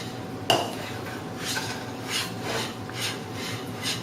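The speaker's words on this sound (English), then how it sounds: "Make sure you whisk the grits until the heavy whipping cream is thoroughly combined" A whisk scrapes and rasps against a pot as grits are stirred together with heavy whipping cream for shrimp and grits, in a few rhythmic strokes with one sharp metallic tap near the start.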